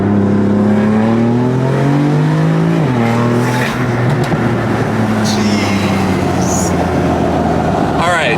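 A BMW M4 engine revs hard under acceleration up close, its loud tone rising and dipping through gear changes, with brief tire noise, and people talking over it inside the car.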